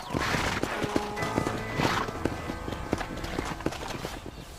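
Horse hooves clip-clop on the ground in the video game Red Dead Redemption, a series of close, crisp hoofbeats at a walking rhythm, some louder thumps and scuffs mixed in.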